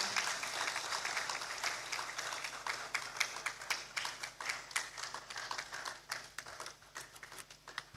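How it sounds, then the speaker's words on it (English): A crowd applauds steadily for several seconds, many hands clapping in a dense, even patter at moderate distance. "The applause, not exciting."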